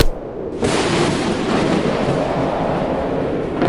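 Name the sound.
firecrackers bursting for Vishu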